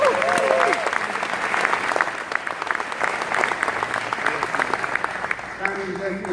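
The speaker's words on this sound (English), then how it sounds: "Let's give the mayor a round of applause." An audience applauds the mayor at a grant award event in Westbury Village, steady clapping from many hands through the whole stretch, with a few voices faintly mixed in under it.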